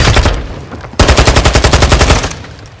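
Video game gunfire: loud, close automatic bursts, a rapid stutter of shots, a short pause, then a longer sustained run of evenly spaced rounds that cuts off abruptly.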